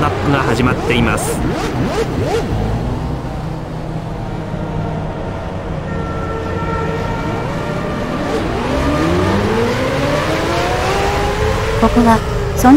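Formula One cars from the 2006 game roll around the Monaco street circuit on the formation lap, several engines whining and rising in pitch at once, with overlapping revving that builds toward the end.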